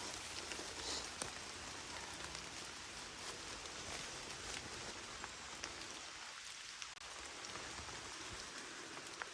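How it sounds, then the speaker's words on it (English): Steady rain patters on leaves and ground, a dense, even hiss with no voices. "it is raining"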